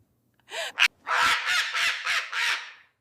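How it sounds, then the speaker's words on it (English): A parrot lets out a string of harsh, loud squawks close by: two short calls, then four longer raspy cries in a steady rhythm, with no other sound around them. "He didn't expect the bird to talk back so perfectly."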